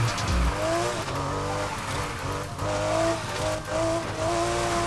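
Porsche RSR race car drifting in Need For Speed Heat, its engine revving hard with rising and falling pitch and tires squealing through repeated slides, loud and close with no talking.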